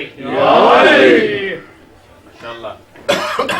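At a Muharram gathering, a crowd shouts the Haidari slogan in response, a loud burst of massed voices lasting about a second and a half, followed by quieter scattered voices.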